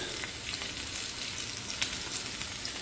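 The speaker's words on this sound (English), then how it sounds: "Once you hear that momentum of sizzle start to pick up" Food sears over high heat in a hot pan during a post-workout meal, making a constant, close, dense crackling sizzle that holds evenly throughout with a single sharper pop and no talking.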